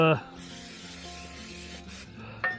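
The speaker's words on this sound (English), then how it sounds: "I'm going to take a little parts cleaner here and just spritz this off" Parts cleaner sprayed onto the underside of a Husqvarna TS348D K66 transaxle, a steady close hiss of aerosol spray running for about two seconds after a brief knock, then cutting off.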